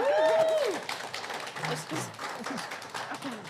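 Studio audience applause on a holiday-themed show, a dense even wash of clapping that runs steadily throughout, with a voice sounding briefly over the start.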